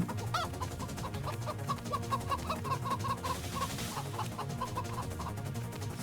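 Repeated clucking from chickens in a Roblox video game, short rhythmic calls over a low, busy background of synthetic game sounds.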